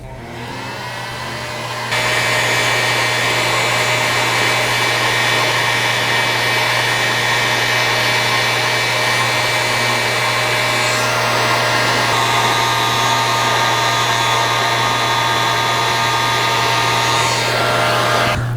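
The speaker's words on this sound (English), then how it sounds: "We're gonna use the heat gun today, but in a pinch, you can always use a torch as well." A heat gun blows loud and steady at close range, shrinking heat-shrink tubing over repaired sump pump cord connections, switching on after a quiet start and running continuously with no talk.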